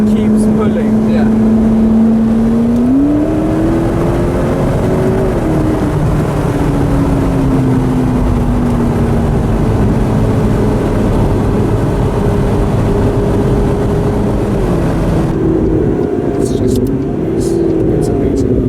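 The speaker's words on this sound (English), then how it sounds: "And the turbo noise you can hear in the back is so crazy." A McLaren accelerates hard on the road, its turbocharged engine a loud steady drone whose pitch climbs and shifts through the run, heard from inside the car under constant road and wind roar.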